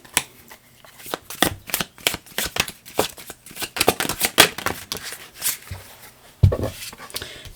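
Tarot cards being shuffled up close, a quick run of crisp riffling and snapping bursts with short pauses between them.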